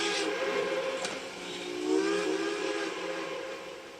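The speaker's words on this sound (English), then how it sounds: "The wet, lonesome whistle of a steam train in the distance." A distant steam train whistle, a long wavering tone that swells and fades over a soft outdoor background, with no voices.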